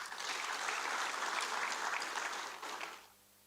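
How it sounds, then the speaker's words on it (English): Applause fills a hall at an HIV response program review and plan launch in Kenya, many hands clapping steadily, then tapering off and ending shortly before the close. "Kenya deserves a round of applause for its leadership"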